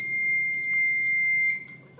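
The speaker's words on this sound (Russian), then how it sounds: "И раздается оглушительный писк." A homemade tripwire alarm buzzer squeals loudly and steadily at a high pitch, close and piercing, cutting off near the end.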